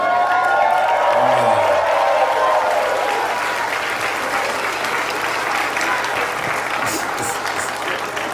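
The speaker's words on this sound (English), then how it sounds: "What are we clapping for?" Audience at a live comedy show breaks into sustained applause and scattered cheering that gradually thins out, with a voice speaking under the clapping.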